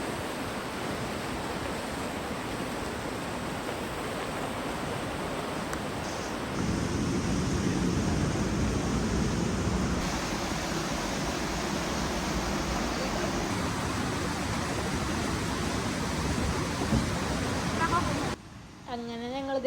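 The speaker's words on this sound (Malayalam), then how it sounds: "ഇതാണ് ലോവർ ഫാൾസ്." The Lower Falls waterfall in Alberta, Canada roars as a constant broadband rush, loud and unbroken throughout, with wind buffeting the microphone and a brief drop near the end.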